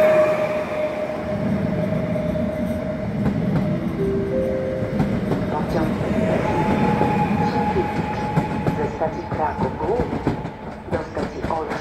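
An EN76 electric train pulls into a station platform, its motors whining in rising and falling tones over rumbling wheels and clicking rail joints, loud and close, while a station announcement voice plays underneath.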